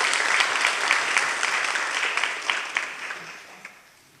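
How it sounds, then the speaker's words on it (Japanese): Symposium audience applauding the speakers, a dense wash of hand claps at moderate volume that holds steady, then thins and fades toward the end with no talking over it. "今一度、丹野様そして和光様に大きな拍手をお願いいたします"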